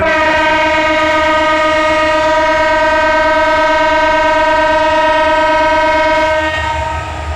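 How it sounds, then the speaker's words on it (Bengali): A train horn blares loudly and steadily for several seconds at Dhaka Kamalapur railway station, a long sustained chord close by, fading slightly at the end. "Dhaka Kamalapur railway station"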